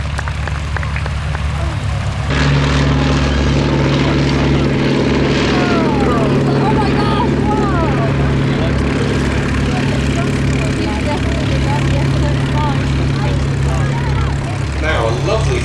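A formation of pre-World War II coastal reconnaissance land planes flies past at the Shuttleworth air show. A loud, steady propeller-engine drone holds throughout, with a hissing wash over it and a voice talking on top.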